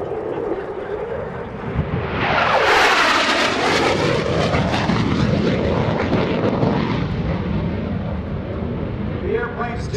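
An F-16CJ Fighting Falcon roars in at an airshow, swells to a loud rushing peak, then recedes with a long fading whoosh as it makes a high-speed pass.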